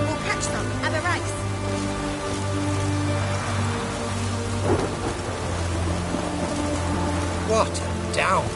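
Heavy downpour roars steadily with rumbles of thunder in the video game The Witcher 3: Hearts of Stone, while music and voices carry over the storm.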